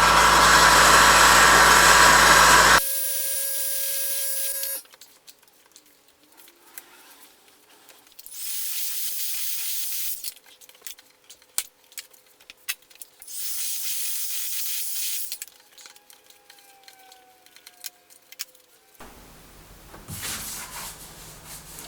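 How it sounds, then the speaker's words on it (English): A heat gun gently warming a cracked plastic car bumper, its fan motor roaring in several steady stretches that start and stop, with quieter handling clicks and background hum between runs. "just heat gun, gently heat it up"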